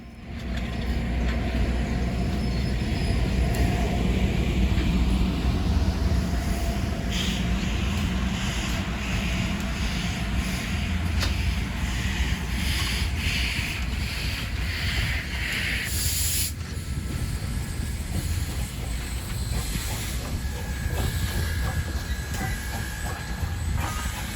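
U.S. Sugar steam locomotive #148 rolling past near Clewiston, a loud continuous rumble and rattle of wheels and cars that holds steady throughout, with a brief bright screech or hiss partway through.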